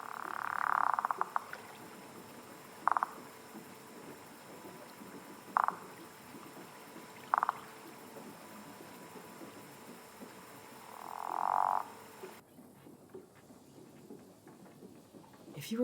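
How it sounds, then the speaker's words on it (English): Frogs call during mating season in a video game world, sounding as several short, separate croaks spaced a few seconds apart over a quiet ambient bed, with a longer, swelling call near the end. "it's mating season for frogs"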